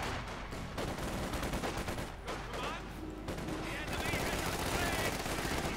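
Rapid gunfire rattles through a Company of Heroes 2 battle, with Fallschirmjäger and AT-42 fire hitting conscripts as dense overlapping bursts, while a commentator talks over the din.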